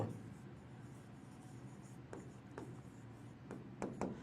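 Marker or chalk strokes on a board during a Bengali classroom lesson on graphs, steady scratchy scraping with a few sharper taps near the end, moderately close with room hiss and no talk over it.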